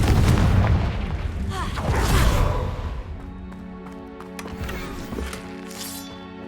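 A fiery Confringo spell explosion in the Hogwarts Legacy video game, a loud deep boom at the start that rolls and rumbles for a few seconds before fading under lighter game ambience.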